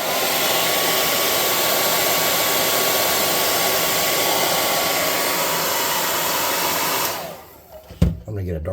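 A hair dryer blowing on wet paint on a tabletop miniature figure, loud and steady with a constant whoosh for about seven seconds before being switched off with a clunk.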